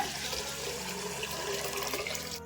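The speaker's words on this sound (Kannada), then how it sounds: "ಇವಾಗ ನೀರು ಹಾಕ್ಬಿಟ್ಟು ಇದನ್ನ ಎಣ್ಣೆಗೆ ಬಿಟ್ಬಿಡೋಣ." Water pours steadily from a tap onto washed rice and lentils in a vessel for soaking, a soft continuous splashing trickle with no voices.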